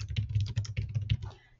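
Someone types on a computer keyboard in a quick, close run of clicky keystrokes that slows and fades at the end, with no voice over it.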